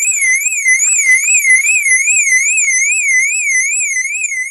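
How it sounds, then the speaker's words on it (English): A 2000 BMW X5 4.4i E53 car alarm blares close and loud, a steady electronic siren sweeping up and down in a regular wavering rhythm throughout, with no talk over it. "I'm not going to get the alarm to go off. Maybe it will."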